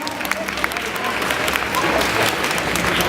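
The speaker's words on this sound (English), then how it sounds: "Et Cory Michael Smith, des tonnerres d'applaudissements, s'il vous plaît." A crowd at a Paris Manga convention panel for the Gotham series applauds the guests, steady dense clapping throughout.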